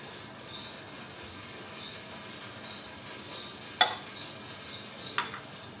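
Oil going into a hot pan while cooking a fish curry with drumsticks, giving faint short sizzles and a sharp clink partway through, with quiet gaps between.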